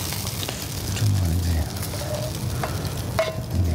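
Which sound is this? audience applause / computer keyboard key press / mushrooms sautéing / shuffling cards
mushrooms sautéing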